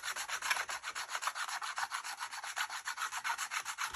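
Chalk pastel scratches across paper while a flower petal is coloured in, making fast, rhythmic back-and-forth strokes. The scratching is close and steady with no voices.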